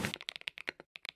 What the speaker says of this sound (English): downloaded this lavender purple key switches mod to change all of my typing noises to sound like